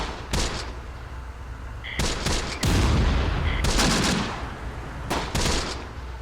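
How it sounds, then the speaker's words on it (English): Tank cannon and gunfire in the Close Combat game as two tanks fire on a StuG: loud, sharp blasts in separate bursts, one heavy shot near the middle with a long rumbling tail. "We got two tanks firing at this Stug now"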